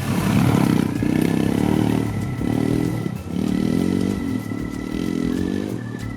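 A Royal Enfield Himalayan motorcycle rides countryside trails in the Basque Country, its single engine droning steadily and loud up close, with rhythmic surges as the throttle rises and falls, plus some clatter from the bike.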